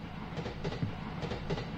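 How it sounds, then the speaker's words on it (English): A train rolling past in a Japanese horror video game, with a steady rumbling wash and faint rhythmic clatter of wheels at moderate distance, with no talk over it. "There's the train again."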